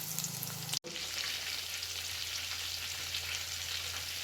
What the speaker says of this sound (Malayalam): ചൂടായ എണ്ണയ്ക്കകത്തോട്ട് സോയ എടുത്ത് അങ്ങോട്ട് ഇടുക